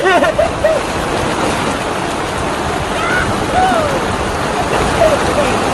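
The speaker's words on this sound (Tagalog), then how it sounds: "Ang lakas naman ng ulan!" Steady, dense rain roaring without pause, with a few faint distant calls breaking through the constant wash of water.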